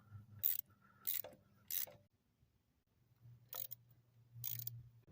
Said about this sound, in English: I'm going to start by taking the motor mounts off the old one